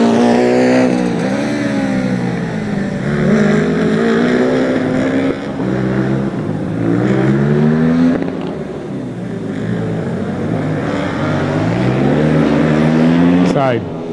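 Formula Student race car on a track during an endurance event, its engine revving and rising in pitch as it drives past, with an announcer commentating over it.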